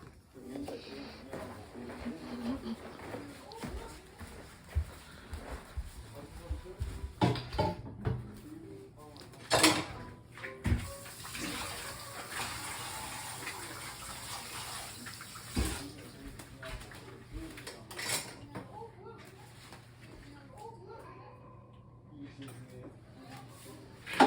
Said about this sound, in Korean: 설거지 열심히 하는 거예요?